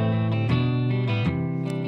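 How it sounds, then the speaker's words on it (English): Electric guitar played straight through the amp with the overdrive pedal switched off, ringing chords struck a few times with a warm, sustained tone, close and moderately loud, no voices. "Let's kick it out, and this is the sound of the amp."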